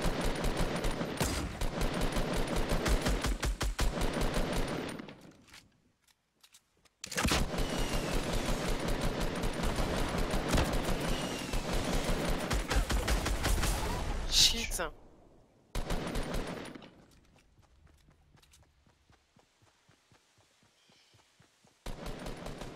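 Bursts of rapid automatic gunfire from the video game Fortnite rattle in long loud stretches broken by brief silences, with players' excited voices talking over the shooting.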